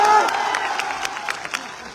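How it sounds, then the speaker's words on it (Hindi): A rally crowd applauds and cheers in a short burst of clapping that fades within two seconds, with scattered voices and loud claps near the end. "इसके लिए जोरदार ताली बजाओ"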